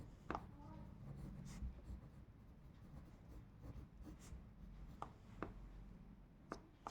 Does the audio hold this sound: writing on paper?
yes